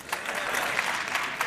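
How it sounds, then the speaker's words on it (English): Audience applause at a speech, a dense close patter of many hands clapping steadily for the whole moment. "if you know Hindi, please clap"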